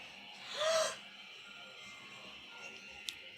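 One breathy, gasping inhale rises and fades in the eerie quiet of a creepy dollhouse scene, over a faint steady hiss, with a small sharp click near the end.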